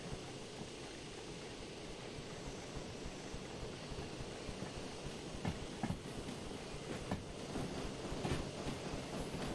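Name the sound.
steam locomotive running in video game Derail Valley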